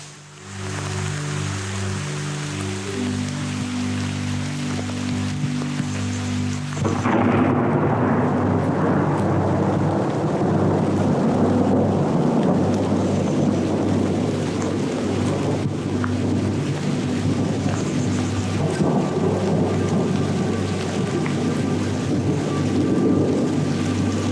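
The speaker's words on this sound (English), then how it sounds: "wait for the hail to stop" A loud, constant roar of hail and heavy rain beats down during a lightning storm, with a deep rumble of thunder building midway and continuing under the downpour.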